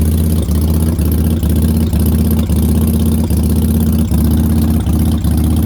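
A 2004 Yamaha V-Star 1100 motorcycle engine idling after a cold start, a loud, close, steady lumpy throb with a regular pulsing beat and no talk.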